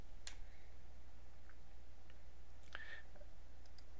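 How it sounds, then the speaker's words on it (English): A computer mouse double-clicked on a zip file during an iPhone SDK 3.2 programming session, giving a couple of faint, quick clicks over a quiet room hum. "We'll double click the first form view zip file."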